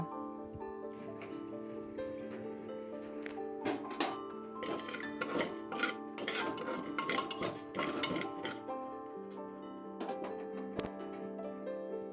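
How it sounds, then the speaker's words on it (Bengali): Metal spoon scraping and clinking against a pot while mung dal is dry-fried and stirred, steady close scraping and rattling with a sustained tonal hum from the stove or kitchen beneath, no voices. "মুগ ডালটা আমি একটু ভেজে নেব কিছুক্ষণ একটু এইভাবে নাড়াচাড়া করে"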